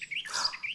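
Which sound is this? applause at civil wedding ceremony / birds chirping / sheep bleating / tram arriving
birds chirping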